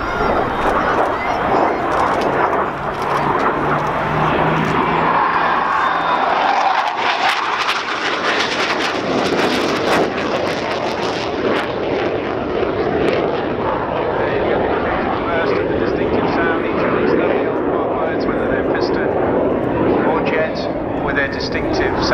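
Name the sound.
Hawker Hunter jet aircraft flying at air show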